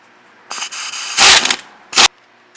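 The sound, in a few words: air ratchet removing wheel hub bolts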